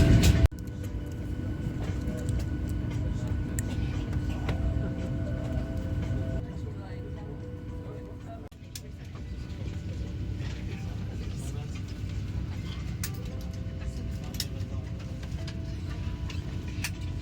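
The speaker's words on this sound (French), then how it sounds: "C'est parti pour les décollages." A passenger airliner taking off on a flight to Marrakech, heard from the cabin: a steady, loud engine roar and rumble that holds throughout, with a voice speaking briefly at the start.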